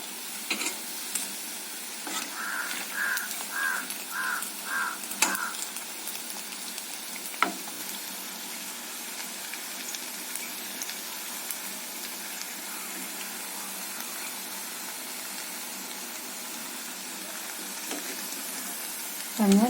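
Medu vadai, urad dal fritters, fry in hot oil with a steady, even hiss of bubbling and sizzling throughout, a few faint clinks and small pops rising over the continuous frying.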